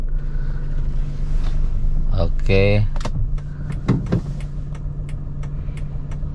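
A manual car's engine is started at a busy roadside, with a short whirring crank followed by a steady idle. A voice speaks briefly nearby.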